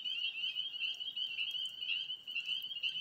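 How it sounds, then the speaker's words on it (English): Spring peeper frogs call in the evening, a dense, continuous chorus of high peeping that holds steady at a moderate distance with no voices over it. "you hear the peepers? There are frogs."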